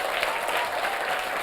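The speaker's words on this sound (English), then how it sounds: "Please give him a round of applause." A spelling bee audience gives a short, steady burst of dense clapping that fills a hall with broad applause and no voices.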